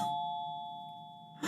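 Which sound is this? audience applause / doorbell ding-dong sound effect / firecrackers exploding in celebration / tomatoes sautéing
doorbell ding-dong sound effect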